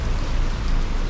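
Rain falls on a city street in Auckland's CBD, a steady, dense hiss of drops spreading across the whole range with no voices.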